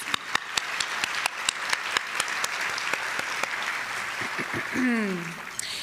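An audience at the Iowa Women's Foundation annual luncheon claps in sustained applause, sharp individual claps standing out, with voices rising near the end.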